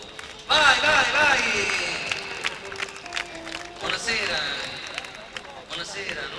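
An audience at a live comedy show in Roccasecca claps and cheers after a sudden start, the applause sustained while voices call out over it.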